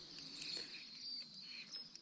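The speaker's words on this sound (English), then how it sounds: "There's so many birds here" Faint high chirps and calls from many birds at a remote campsite during a solo kayak camping trip, a thin continuous twittering heard from a distance with no voices.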